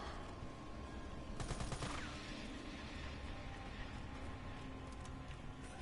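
Burst of assault rifle fire in Resident Evil 3 Remake, a short rapid cluster of shots around the middle of the clip over steady game ambience and background noise.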